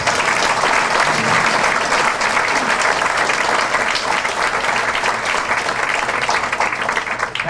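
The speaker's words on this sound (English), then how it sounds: "So I'm gonna just let you give them a round of applause" Sustained applause from an audience at an Elks lodge "Laws and Order Night" show, dense and steady throughout with no talking over it.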